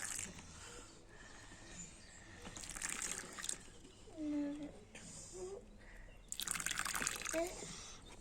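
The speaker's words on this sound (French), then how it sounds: "Lilou, elle va nous arroser ses plantes." A child waters plants in a home garden, water pouring and trickling in intermittent bursts, close by, while adults and children chat in French throughout.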